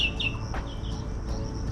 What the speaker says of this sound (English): I love the song of this bird.